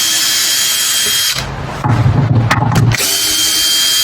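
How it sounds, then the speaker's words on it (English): A power drill whirs at high speed, then bites into wood with a louder grinding burst for about a second before spinning freely again. "we want to drill all these holes once there"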